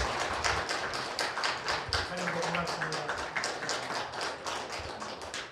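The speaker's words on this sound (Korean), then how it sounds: "새 박수를 드리겠습니다." A church congregation applauds during a Sunday worship service, rapid rhythmic clapping from many hands across the whole stretch, with a voice speaking briefly over it.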